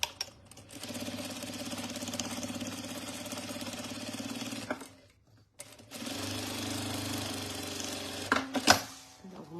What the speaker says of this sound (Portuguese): Aí eu faço a primeira costura bem na beiradinha.